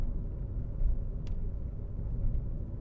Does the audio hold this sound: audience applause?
no